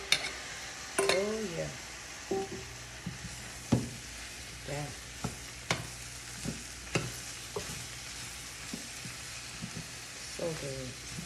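Mushrooms added to a frying pan for a veggie fettuccine, sizzling softly and steadily with frequent sharp clinks and scrapes of stirring, brief voices murmuring at points, fairly quiet and close.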